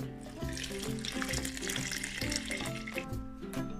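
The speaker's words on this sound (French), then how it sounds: "On va incorporer donc l'eau mélangée à notre levure dans la farine" Yeast-laced water pours into a bowl of flour while mixing pizza dough, a continuous close splashing trickle lasting a few seconds, alone and fairly quiet.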